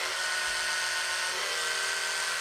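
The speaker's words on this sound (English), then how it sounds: "I just got an electric toothbrush and I know I look like an idiot, but all of the settings are so fast" An electric toothbrush gives a high-pitched electric buzz that drones continuously and evenly, close by, like a small motor running without pause.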